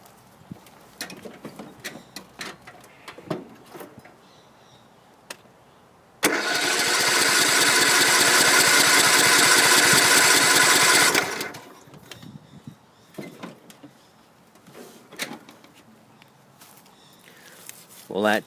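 Troy-Bilt Super Bronco lawn tractor engine cranking over, a loud steady starter-motor churn lasting about five seconds, with quieter clatter and movement before and after.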